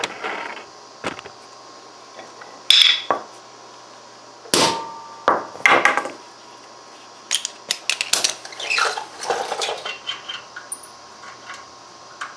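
Vice grips strike a DR leaf vac muffler to flatten a burr, giving a series of sharp metallic taps and clanks in irregular clusters, close by, with no talk.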